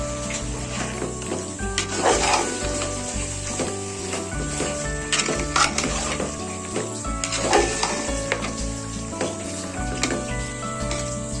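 Mutton with salt cooking in a pot for biryani, a continuous sizzling bubble with occasional metallic stirring knocks against the pot, close and steady throughout.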